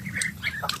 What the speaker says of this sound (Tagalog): Kukulit yung mga pato na ito.